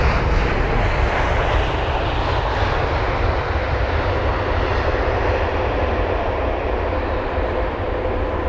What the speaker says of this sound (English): So here's the Kenya Airways 787 from Nairobi.